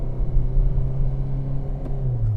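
A Renault Clio 3 with a smart clutch system revs to around 3500–4000 rpm, a loud, close engine drone with deep rumble that rises slightly toward the end, heard alone.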